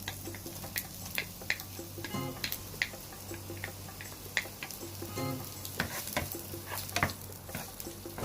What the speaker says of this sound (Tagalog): So ngayon, magigisa muna tayo ng ating sibuyas.